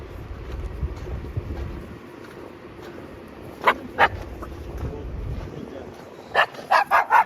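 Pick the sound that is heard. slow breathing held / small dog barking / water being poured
small dog barking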